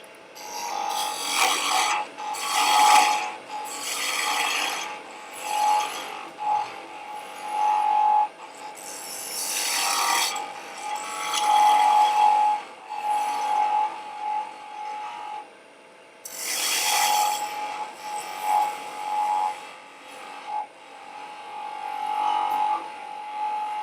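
Wood is cut on a lathe, giving a continuous rasping, scraping hiss that swells and fades as the tool meets the spinning workpiece, loud and close, with short pauses between cuts.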